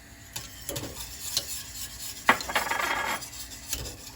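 A spoon stirs milk jam thickening in a pot after baking soda has been added, giving repeated scraping strokes against the metal with a soft bubbling sizzle underneath, close and with no talk.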